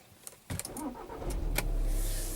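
A common-rail TDI diesel car engine wrongly filled with gasoline cranks with a few clicks and whirs, then catches and settles into a loud, rumbling idle close by.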